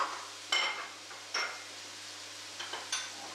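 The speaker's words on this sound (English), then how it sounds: "he's added the cherry or vine tomatoes, whatever you have. And this is 1 can of chopped tomatoes" Chopped and cherry tomatoes cooking in a pan during a vegan pastichio workshop, a gentle steady sizzle broken by a few sharp stirring scrapes and clinks of a utensil against the pan, close and moderately quiet, with no voices.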